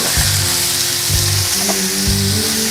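Curry in a hot wok sizzles steadily while it is stirred, with three repeated scraping strokes in an even rhythm, close and fairly loud.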